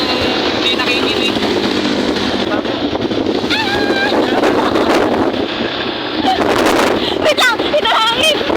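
Strong gusts buffet a handheld microphone outdoors, a loud continuous rumbling roar, while people talk and exclaim over it.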